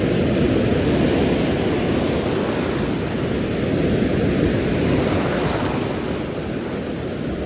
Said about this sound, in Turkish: Gördüğünüz gibi denizlerde yükselmiş, daha dalgalanmış.